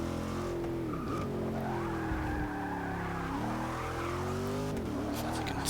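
In Forza Motorsport 6, a race car sheds speed hard from nearly 180, the engine note falling in stepped downshifts with a burst of tire noise as it brakes, loud and continuous throughout.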